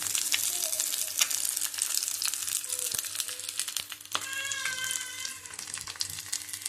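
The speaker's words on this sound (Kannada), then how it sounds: "ಅದಾದಮೇಲೆ ಎಗ್ ನೋಡಿ ನೀಟಾಗಿ ಫ್ರೈ ಆಗ್ತಾ ಇದೆ." Egg with chili and ginger fries alongside papaya in a pan, giving a constant crackling sizzle with scattered sharp pops, and a short meow-like tonal cry rising over it partway through.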